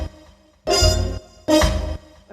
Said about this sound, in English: so check out the beat.